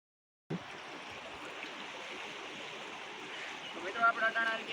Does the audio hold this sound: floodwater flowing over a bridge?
yes